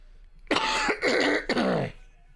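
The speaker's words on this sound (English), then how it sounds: "Sorry about the cough there, guys." A person coughing three times in quick succession, close and fairly loud, with a throaty, rough quality.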